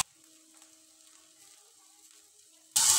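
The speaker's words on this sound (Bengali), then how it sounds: "বরবটি আর আলু দিয়ে আমি কিছুটা ভেজে নেব।" Potatoes and yardlong beans hitting hot mustard oil: a faint, quiet hum gives way near the end to an abrupt, loud burst of sizzling.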